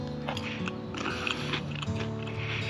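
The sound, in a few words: chewing crunchy cooked fish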